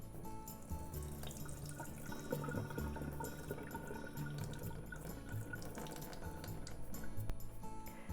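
Cloudy rinse water drains off a batch of rice, a steady splashing pour and trickle into a sink that runs for several seconds with occasional drips and no voices.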